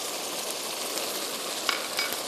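A kebab mixture with black pepper sautéing in a pot, giving an even steady sizzle up close, with a couple of faint stirring taps toward the end.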